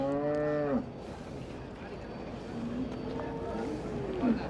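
A cow lets out a loud, drawn-out moo at the start, followed by a fainter, distant moo against a noisy outdoor background.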